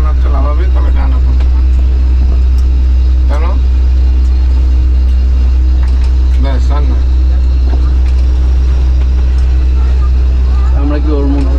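A motor launch engine running steadily while being steered in the Sundarbans, a loud continuous low rumble throughout with people talking over it.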